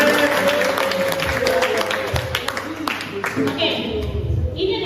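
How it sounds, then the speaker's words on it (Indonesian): An audience at a school anti-violence talk breaks into applause, scattered claps and crowd murmur rising and fading while voices carry over the clapping. "tepuk tangan dong buat Gen X"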